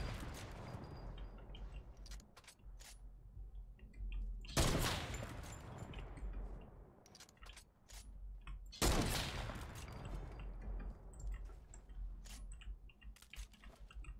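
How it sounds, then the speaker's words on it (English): Fortnite gunfire while jumping and shooting: bursts of rapid shots sound over constant keyboard and mouse clatter, with two louder blasts standing out amid the clicking. "Do I jump and shoot? I jump and shoot."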